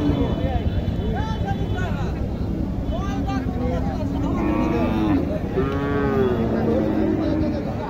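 A crossbred cow and her heifer calf moo at a busy cattle market in Naogaon, Bangladesh, several loud, drawn-out calls rising over a steady crowd murmur and nearby voices.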